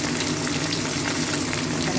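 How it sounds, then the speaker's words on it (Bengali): Fish frying in oil at a market stall, a dense continuous sizzle and hiss, loud and close throughout the short stretch, with no talking. "দেখো এখানে মাছ ভাজা চলছে লাল লাল করে।"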